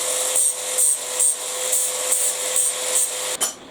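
A tool rasps over a cheap knife handle repair part to take off burrs, in steady rhythmic strokes roughly twice a second. The scraping is close and moderately loud, ending with a sharp knock.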